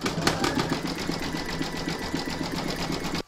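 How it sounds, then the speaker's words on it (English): An embroidery machine sews satin stitch detail on an in-the-hoop stacked pumpkin, a close, rapid, evenly pulsing hum of needle strokes running without pause. "you're going to stitch round number 6, and that's going to do all the satin stitch detail"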